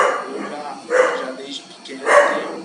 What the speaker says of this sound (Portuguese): Tem um cachorro latindo aqui